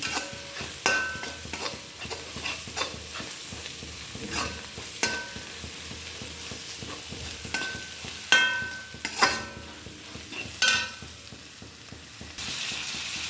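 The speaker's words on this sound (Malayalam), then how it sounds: "വെളുത്തുള്ളി നല്ലതുപോലെ ഇളക്കി യോജിപ്പിക്കുക" Garlic frying in a pan and being stirred, a soft continuous sizzle broken by scattered scraping clicks and knocks of the utensil against the pan, close by with no talking.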